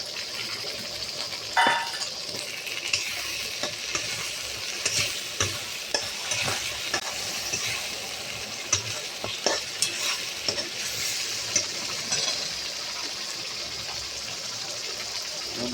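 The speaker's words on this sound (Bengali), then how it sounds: "এবার টমেটো পেস্টটা দিয়ে দিলাম।" Tomato paste sizzles in a hot pan for aloo dum, a steady close frying hiss broken by scraping stirs of a spatula at irregular intervals, with no talking over it.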